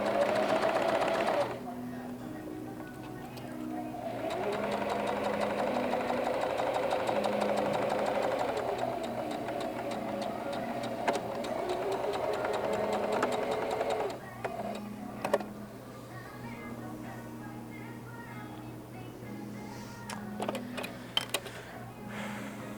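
A sewing machine stitching fabric in long steady whirring runs, pausing between bursts, with lighter clicks and handling noises after it stops.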